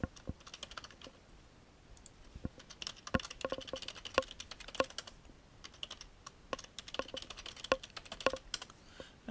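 Typing on a computer keyboard while entering setup details for office software, with irregular bursts of crisp close-up key clicks and no voices.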